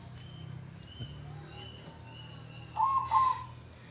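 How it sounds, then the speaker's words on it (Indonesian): A zebra dove (perkutut) coos in a brief, soft burst of two or three notes near the end, over a steady low hum. "kita dengarkan suara anggungan perkutut ya teman-teman."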